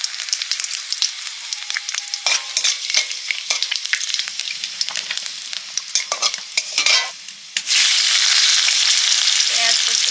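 Dried red chillies with five-spice seeds spit and fry in hot oil, with a steady close sizzle, scattered crackles and stirring scrapes, ending in a louder, even hiss.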